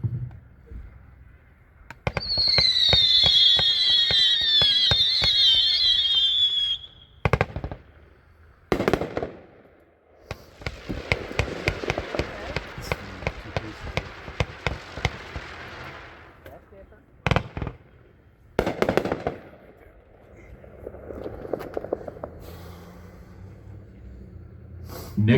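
Consumer firework cake called Nothing to Lose, firing 20 shots: a rapid run of loud cracking bursts with whistling tails, followed by further scattered pops and crackles that taper off toward the end.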